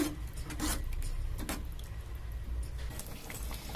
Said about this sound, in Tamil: உருளைக்கிழங்கு நல்லா கையால உடச்சி விட்டுக்கலாம். உடச்சி விட்டு போட்டுக்கலாம். நல்லா மிக்ஸ் பண்ணிங்க.